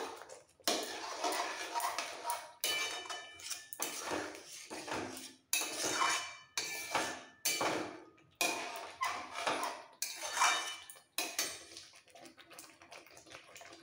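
A spoon stirs potatoes with spinach and ghee in a pan for potato dum: repeated metallic scraping and clanking strokes in an irregular rhythm, near and fairly clear, with no talk.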